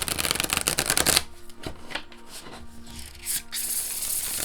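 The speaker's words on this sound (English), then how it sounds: "let me just show you how it shuffles" A deck of Modern Love tarot cards with matte cardstock is riffled in a quick rapid burst for about a second, then gives way to softer handling, rubbing and shuffling noises, close and alone.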